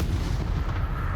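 Bombarda spell explosion in the game Hogwarts Legacy, a single deep, booming blast that rumbles close and loud for about a second.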